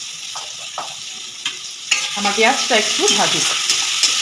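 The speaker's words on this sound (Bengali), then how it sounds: "পেঁয়াজটা হালকা হালকা ভাজলে আমি একটু নুন দিয়ে দিলাম" Chopped onions with a bay leaf sizzle in hot mustard oil while being stirred, a close crackling fry that grows busier partway through, with scraping stir strokes and a faint voice early on.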